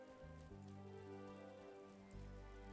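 Rain falling in the video game Wylde Flowers: a soft, steady patter of rain beneath a gentle tonal music bed, quiet and continuous, with a brief brighter chime near the end.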